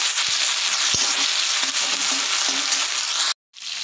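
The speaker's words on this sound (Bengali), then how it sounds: "একটু নাড়তে থাকব" Ginger paste and tomato fry in a hot pan with a loud, continuous sizzle, while a spoon scrapes and stirs in a few soft knocks; the sound cuts out briefly near the end, then resumes.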